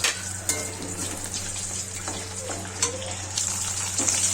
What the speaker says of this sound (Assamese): এইখিনি তেজপাত আৰু পাঁচফোৰণ জলকীয়াখিনি এইখিনি তেলতে দিম